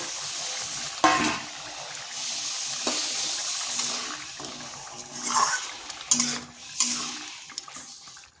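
Lentil fritters (daler bora) drop into a simmering curry with soft splashes and a few distinct plops and clatters, over a steady bubbling, stirring background with no talking.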